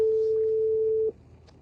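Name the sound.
telephone call being placed, ringing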